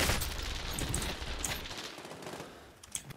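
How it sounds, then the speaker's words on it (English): Rapid automatic gunfire in Modern Warfare Warzone, dense crackling bursts arriving from several directions close to the listener, fading slightly toward the end with a sharper shot just before it stops. "Oh, we're getting shot front and back and sideways"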